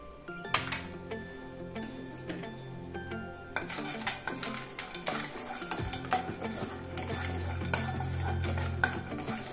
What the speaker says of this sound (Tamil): இதில் நம்ம ட்ரை ஃப்ரூட்ஸ் இருக்குல்ல, அதை ஆட் பண்ணிக்கோங்க. கொஞ்சம் லைட்டாக வறுத்து எடுத்துக்கலாம்.